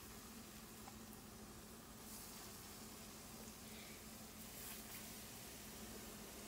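Lentil fritters (bora) frying in hot mustard oil in a wok, a faint, even, continuous sizzle and bubbling heard close with no talking.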